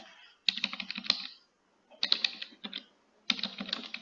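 Someone types a username and password on a computer keyboard: three quick bursts of clicking keystrokes separated by short pauses, close and clear, with no talking.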